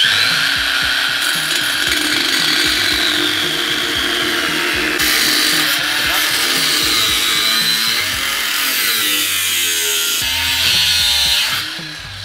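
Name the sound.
power tool cutting exhaust pipe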